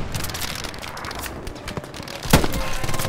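Enemy machine gun firing somewhere south in a Hell Let Loose battle, a ragged stream of distant shots with one louder, closer burst partway through.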